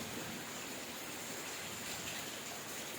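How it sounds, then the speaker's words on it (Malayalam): Heavy rain gives a steady, even rushing hiss with no breaks, fairly faint and distant, and no voices. "ഭയങ്കര മഴ കേട്ടോ."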